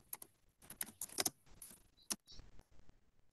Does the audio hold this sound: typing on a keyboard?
yes